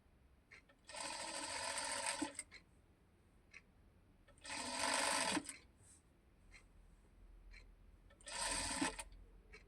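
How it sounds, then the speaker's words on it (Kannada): A sewing machine stitching piping onto a square neckline, running in three separate bursts of fast, buzzing stitching of about one to one and a half seconds each, with quiet pauses and small clicks between. "ಈಗ ಸ್ಟಿಚ್ ಮಾಡಿ. ಇದು ಪೈಪಿಂಗ್ ಆಗಿರೋದ್ರಿಂದ ಎಳೆಯೋಕ್ಕೆ ಹೋಗಬೇಡಿ, ಒಂದೇ ಮಾರ್ಜಿನಲ್ಲಿ ಸ್ಟಿಚ್ ಮಾಡ್ಕೊಳ್ಳಿ"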